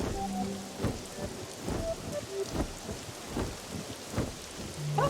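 Rain and thunder in the video game Pokopia: steady rainfall patters on surfaces while soft thunder rumbles swell and fade several times, with a few faint game tones and no talking.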